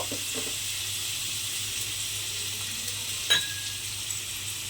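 Chopped small tomato sizzling and frying in a ginger-garlic masala for a jackfruit and prawn curry, a steady close hiss with a brief clatter partway through.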